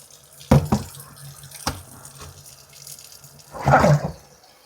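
Tap water runs in bursts into a jar of broccoli sprouts at a sink, splashing loudly in short gushes separated by quieter drips and pauses.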